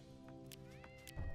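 A cat gives a faint, drawn-out meow with a gliding pitch, heard softly over a steady tonal background hum.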